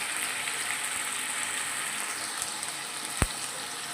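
Potatoes fry in oil with green chillies for a Satara-style sabudana khichdi, a steady soft sizzle with one sharp tap partway through.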